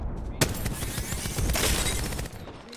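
Enemy gunfire in the shooter game Apex Legends, a dense, loud burst of rapid shots and impacts that runs for a few seconds before easing off.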